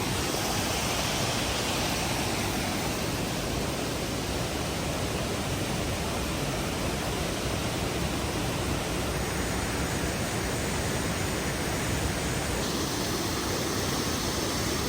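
A waterfall roars in a steady, dense wash of broadband rushing water, loud and unbroken throughout with no voices.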